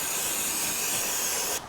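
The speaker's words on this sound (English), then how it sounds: "I wouldn't hesitate to use like a brake parts cleaner, because that will kind of wash any of the brake dust or oil that's out there." Aerosol brake parts cleaner sprayed onto the rear brake of a vintage Vespa scooter, a steady, loud, close hiss lasting about a second and a half before it cuts off abruptly.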